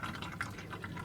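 Fuel drains from the tank of a 2002 Ford Excursion in a steady, close trickle with a wet, splashing pouring texture that runs unbroken for about a second, with no talking.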